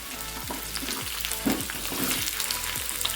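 Cut potatoes, beans and sweet potato sizzle and crackle in hot oil with panch phoron in a wok, with scraping stir strokes recurring every half second or so. The frying is steady and close, with no talk.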